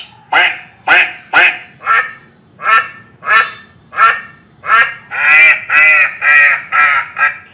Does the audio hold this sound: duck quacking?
yes